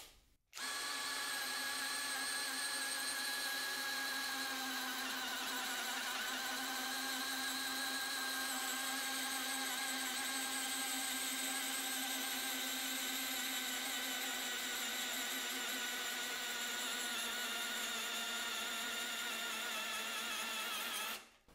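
A small Skil 1/2 inch impact wrench runs steadily on its lowest speed setting, a continuous close motor whine with a strong harmonic hum held for about twenty seconds before cutting off.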